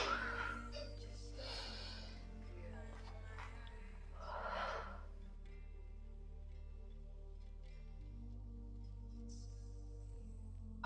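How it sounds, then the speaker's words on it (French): Slow, deep breaths drawn in and let out during a belly-breathing yoga exercise, a few soft airy exhales rising and fading over quiet background music, close and gentle. "On inspire, on gonfle. On expire, on rentre le ventre."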